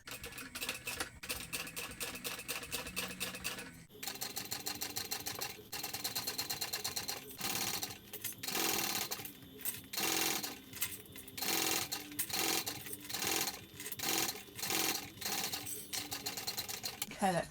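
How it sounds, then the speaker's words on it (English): A sewing machine top stitches a backpack seam, running in rapid rhythmic bursts separated by short pauses, close and clear. "I'm only going to top stitch down the center at the measurement given in the pattern"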